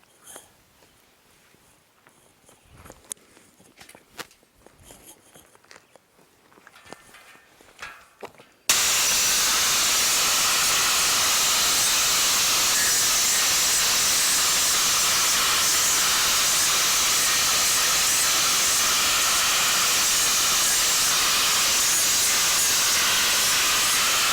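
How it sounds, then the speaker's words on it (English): An angle grinder smooths the jagged metal edges of a cut IBC tote. Quiet handling sounds come first, then a loud, steady, high-pitched grind starts abruptly and runs on without a break, close by, with no talking. "I'm going to take a grinder and smooth these out"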